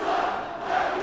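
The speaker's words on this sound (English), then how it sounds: "And now the student section only further antagonizing the officials with their chants." Student section at an FGCU at Ohio college basketball game chanting in unison, a sustained, dense crowd roar with rising voiced tones, loud and close throughout.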